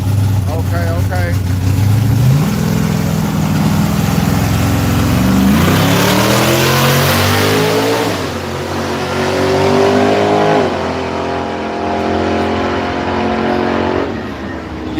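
A Honda drag car launches down a night dragstrip, its engine rising through several quick gear shifts, loud and near, with other engine noise and crowd chatter around it.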